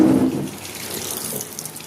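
Tap water runs steadily into a sink as a child washes hands, a constant broadband wash that starts a little louder and then settles to an even flow, with no voices over it.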